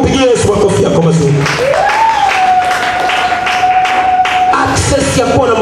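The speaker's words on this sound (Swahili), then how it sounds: "Hebu mpigie Yesu makofi yako mazuri." A church congregation applauds together, a dense, steady wash of clapping that runs loud throughout, with a sustained tone holding over the middle stretch.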